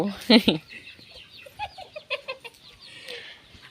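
Chickens cluck in a rural village yard, with a couple of louder close squawks at first, then a series of softer, scattered clucks and chirps at moderate distance, among faint ambient bird sounds.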